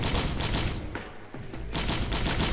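Dense, overlapping explosions from the Brilliant Behemoth item in the Risk of Rain video game, loud crackling booms chaining rapidly together, briefly easing in the middle before surging again.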